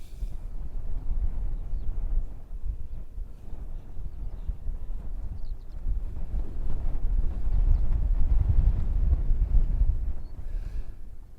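Strong wind buffeting a microphone outdoors while a DJI Mini 2 drone flies at about 28 metres, a constant low rumble that swells and gusts louder toward the end.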